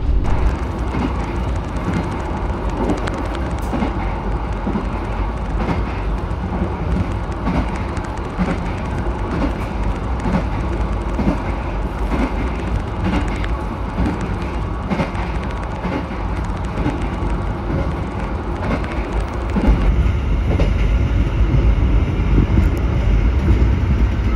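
The Gajah Wong executive train runs on the rails between Jakarta and Yogyakarta at around 90 km/h, heard from inside as a loud continuous rumble with rhythmic clatter, rising slightly toward the end.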